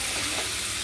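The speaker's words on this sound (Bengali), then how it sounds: "টমেটোগুলো যে কুচি কুচি করে কেটে আছে ওগুলো এবার দিয়ে দেবো পুরোটাই। দিয়ে আবার ভালো করে নাড়াচাড়া করে নেব।" Prawns and finely chopped tomatoes frying in a pan, giving a brief, dense, close sizzle with soft stirring underneath.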